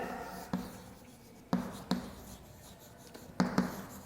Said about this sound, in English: so I am going to write over here